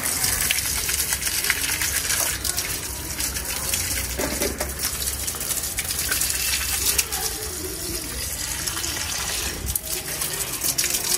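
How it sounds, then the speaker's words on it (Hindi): Water gushes steadily from a hose pipe onto garden plants, a continuous broadband splashing rush that stays loud and close throughout with no talk over it. "तो हम थोड़ा जि पानी इन्हें पा दी है, पाइप लग गई है, हो गई ऑन"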